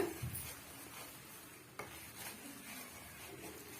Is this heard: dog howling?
no